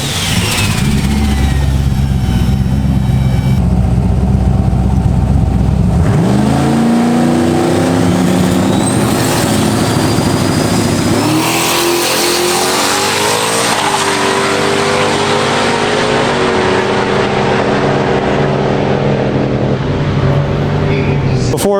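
A turbocharged Camaro drag car with a Dart 427 engine, Precision 88 Pro Mod turbo and Turbo 400 transmission revs loudly at close range, rising and falling in several hard blips over a steady throbbing idle.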